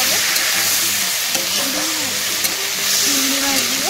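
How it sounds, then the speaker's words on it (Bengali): Yardlong beans and potatoes frying in a pan with browned onions, a loud close continuous sizzle with stirring scrapes, while voices talk over it. "মা দিয়ে দিল বরবটি আর আলু ভাজা হবে"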